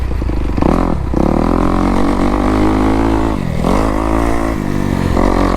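A dirt bike ridden on a motocross track at Durhamtown, its engine loud and close with continuous revving that rises and dips through gear changes and throttle shifts, with some clattering, and no talking.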